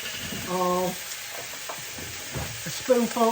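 Garlic sizzles in a frying pan as it is stirred, a close, steady frying hiss broken by scraping movements, with short bursts of a voice over it.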